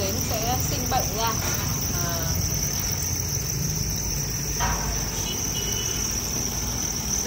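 Farmed field crickets chirping in a steady, dense high-pitched trill that runs continuously, with faint background noise and a few brief softer sounds underneath.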